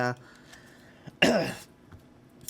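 A single loud, harsh cough bursting out close to the microphone, with brief speech just before it and quiet afterward.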